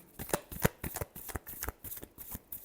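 Tarot cards being shuffled by hand in a series of quick riffling, slapping bursts, close and fairly quiet, with no talking.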